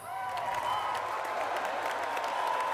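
Steady, sustained clapping from a large audience fills the space evenly, with a faint crowd murmur beneath.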